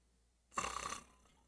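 A single snore is imitated by a voice, a half-second rasping burst rising out of near silence and quickly fading.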